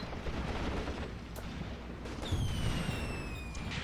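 Artillery fire in the WWII tactics game Graviteam Tactics: Mius Front: deep, rumbling shell blasts roll continuously, with a heavier burst of booms midway and no voices.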